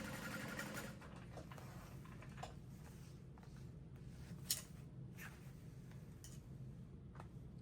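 Domestic sewing machine stitching reinforcement along the curved seams of a handbag, a steady low whirring drone running throughout at a soft, even level, with one brief louder clack midway.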